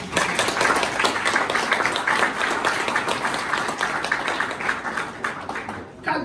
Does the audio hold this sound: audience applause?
yes